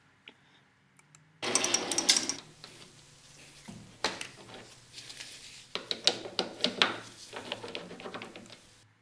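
Lathe cutting mild steel with a carbide tool gives a low steady hum, then sudden loud bursts of scraping, chattering and rattling that come and go irregularly over the running machine.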